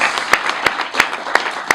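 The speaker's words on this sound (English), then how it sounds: "let's give Mr. Burrows a round of applause" Audience at the All Bahamian Awards ceremony giving a round of applause, a continuous crowd clapping with a few louder individual claps standing out at regular intervals, moderately close.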